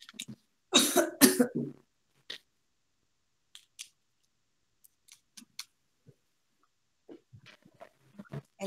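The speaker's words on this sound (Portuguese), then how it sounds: "vou começar a tossir." A woman coughs in a harsh burst of several loud coughs close by, followed by scattered faint small sounds and quiet breaths.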